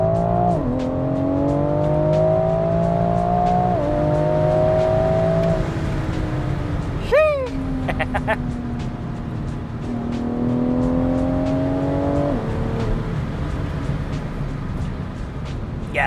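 A Stage 2 tuned BMW F98 X4M with an Akrapovic slip-on exhaust, 200-cell downpipe and resonator delete revs hard through the gears from second, rising in pitch three times with a sharp crackle between pulls, loud and close.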